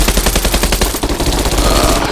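Rapid automatic gunfire in the online shooter game Bullet Run, a loud close burst of evenly spaced shots followed by a denser, overlapping volley from more than one weapon.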